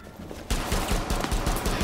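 Rapid pistol gunfire from the tactical shooter game Rainbow Six Siege, a burst of sharp repeated shots starting suddenly after a quiet moment and continuing in quick succession, loud and close.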